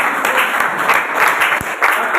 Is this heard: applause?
yes